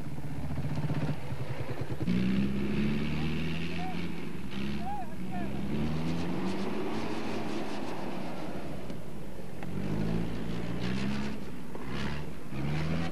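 A 4x4 off-road vehicle on the 1988 Raid Marhaba rally in Morocco drones and revs throughout, its engine pitch rising and falling, with people talking over it inside the cabin.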